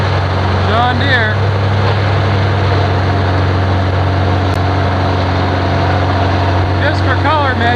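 A John Deere tractor at a logging site runs with a steady, loud, low engine drone throughout, with a voice briefly heard over it at the start and again near the end.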